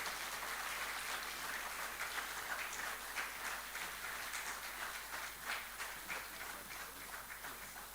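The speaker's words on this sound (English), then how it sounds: "a round of applause for our moderator" Faint, distant applause from an audience at a panel event, a soft continuous patter of many hands that holds steady and then slowly tapers.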